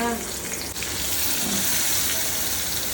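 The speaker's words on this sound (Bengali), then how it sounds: "এই যে 3 পিস কই মাছ মশলা দিয়ে মেখে রাখছিলাম, এগুলো ভাজতে দিয়ে দিব" Three pieces of spice-coated koi fish frying in hot oil in a home kitchen, giving a loud, steady, dense sizzle that runs unbroken throughout with a faint low background hum.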